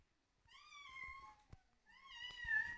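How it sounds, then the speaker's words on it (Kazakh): Two drawn-out cat meows, close and fairly clear, separated by a short pause against a quiet background. "мына жақта мышықтар мияулап жатыр"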